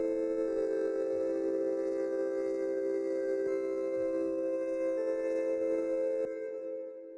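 A sustained synth melody passes through the Abbey Road Real ATD Stereo plugin, giving long smooth held tones with a slight phasing shimmer and a soft fade near the end, heard alone.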